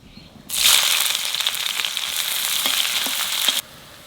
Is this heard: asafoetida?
yes